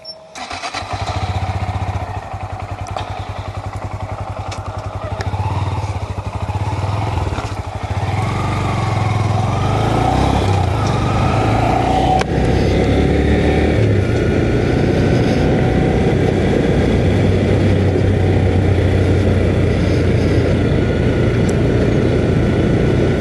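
A 2021 Honda MSX 125 Grom motorcycle starts up and rides off, its small single-cylinder engine revving loud and close before settling into a steady drone as it pulls away, with no talking.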